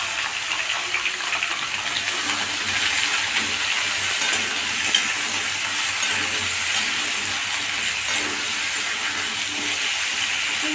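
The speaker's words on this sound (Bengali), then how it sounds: "এটা মাঝে মাঝে এরকম একটু নেড়ে চেড়ে ভালো করে ভেজে নিচ্ছি।" Pumpkin and potato pieces fry in a pan with occasional stirring, giving a steady, bright sizzle with faint scraping and clinks under it, close and continuous.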